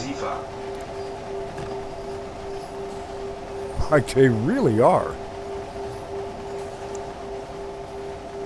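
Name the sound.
train driving on a route in video game Train Sim World 6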